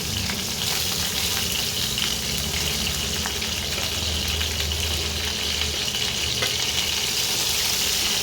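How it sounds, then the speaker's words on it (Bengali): Snakehead (shol) fish pieces fry in hot oil, a dense continuous crackling sizzle at steady loudness from start to finish, close and without talk. "তুলে নিয়ে পরে যে মাছগুলো আছে সেগুলো এবারে ভেজে নেব।"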